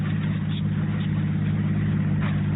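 A car drives along as a radio drama sound effect: a steady, low engine drone that stays constant throughout, with no speech over it.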